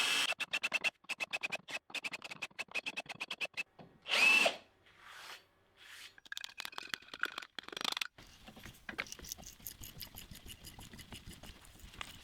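Cutting tool chamfering the edges of a metal turret body on a DIY CNC metal lathe, with rapid rhythmic ticking passes, short bursts of harsh scraping and brief pauses between cuts, fairly faint and close.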